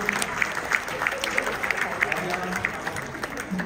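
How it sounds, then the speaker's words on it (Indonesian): Audience applause for Dr. Michael and others at a class graduation evening, a crowd clapping steadily with sharp individual claps, while a voice talks over the sound throughout. "boleh kita berikan tepuk tangan untuk Dr. Michael dan semuanya"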